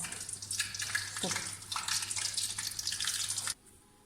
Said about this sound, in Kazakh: Осылай майға салып, қуырып алатын боламыз.